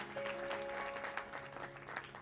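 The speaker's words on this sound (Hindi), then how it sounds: "तो एक जोरदार तालियां सर के लिए।" Audience applause for a singer at a senior citizens' council event in Prayagraj, faint, distant clapping over a steady background hum with a sustained tone running through it.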